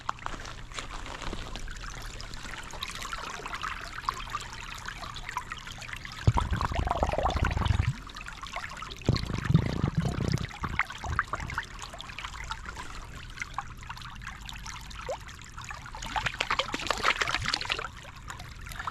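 Water trickles and pours steadily outdoors, with a louder gurgling burst in the middle as a military water bottle fills from a stream, over a constant rushing stream.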